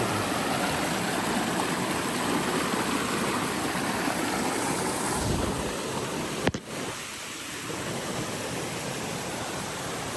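Steady rushing water flows continuously, a broad even roar like a waterfall nearby, with one brief sharp knock partway through.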